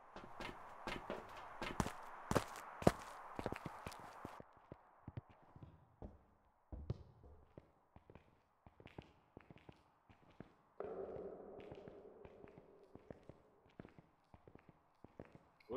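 Footsteps echo in a haunted asylum in Phasmophobia, a series of sharp taps and thuds in irregular rhythm, some clustered quickly, others spaced out, against quiet background and a brief low hum.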